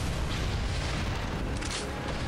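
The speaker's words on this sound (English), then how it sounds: "The one time we're gonna use the rocket launcher." A rocket launcher blast in the video game Binary Domain, a dense, sustained booming rumble that fills the whole moment with no clear break and no voices.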